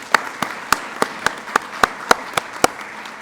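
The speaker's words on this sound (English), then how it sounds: "Please give a big round of applause to Rahman Khan." Audience clapping at a Spectrum donation event for Central City Neighborhood Partners' new computer lab, heard as sparse, evenly spaced sharp claps in a steady beat, close and fairly loud, with no talking.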